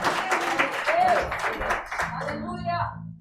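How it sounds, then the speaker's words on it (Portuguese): A church congregation at an evening conference claps in loud, thick applause under someone speaking, the clapping tapering off toward the end. "Vamos dar mais um aplauso a Jesus pela vida forte."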